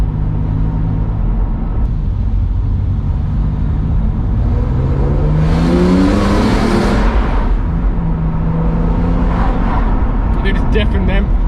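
A BMW E46 M3 with SMG gearbox accelerates hard at full throttle, a steady loud in-cabin engine drone that rises in pitch through a shift midway, with people talking over it.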